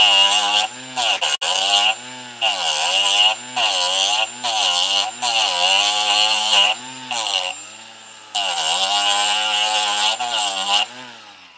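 Power tool shaving a pistol grip extension flat on a Canik MC9 handgun: a close, loud, high-pitched whirring grind that comes in repeated bursts separated by short pauses.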